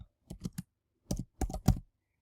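Computer keyboard typing in short clustered bursts, with brief pauses between groups of keystrokes, close and fairly quiet, entering text while setting up a WordPress membership.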